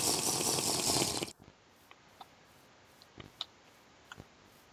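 Drinking water in the blocky survival game Terrafirmacraft: a loud rushing watery burst for over a second, then quiet with scattered small clicks.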